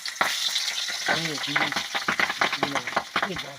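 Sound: magur fish frying in hot oil

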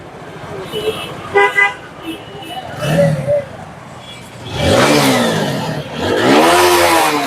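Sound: second-hand motorcycle engine being started and run

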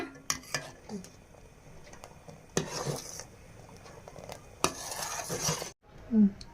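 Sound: stirring a boiling sweet dish in a pot

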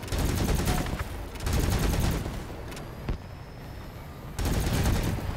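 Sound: gunfire from vehicle weapons in video game Crossout

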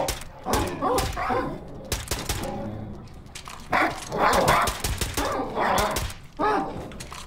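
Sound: dog growling and barking in the video game Wolfenstein II

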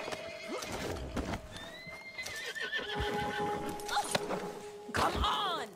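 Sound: horse neighing and hooves in Red Dead Online video game

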